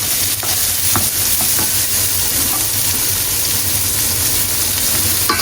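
Garlic and onion frying in a pan, a steady loud sizzle and hiss with occasional stirring scrapes and light crackles throughout, close up with no talking.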